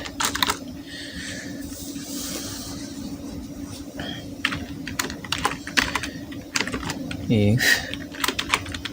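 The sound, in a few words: typing on a computer keyboard, writing a script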